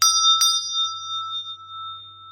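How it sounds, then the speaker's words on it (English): A small bell marked with a heart chakra symbol is struck twice in quick succession, clear and close, its pure metallic tone ringing on and slowly fading with a faint low hum beneath. "I have a bell here with a heart chakra, symbol of the heart chakra."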